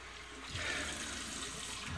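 Hot water runs steadily from a tap for a couple of seconds, a close, even hiss of flowing water with no voices.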